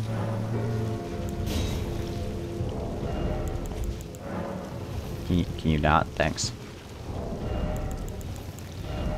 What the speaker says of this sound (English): Welcome to the land of always rain.